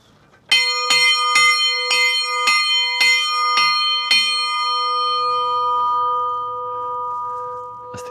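A church bell strikes about eight times at a steady, measured pace, each stroke ringing bright, then the final tone hangs and slowly decays into quiet.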